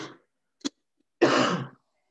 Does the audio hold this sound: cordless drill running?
no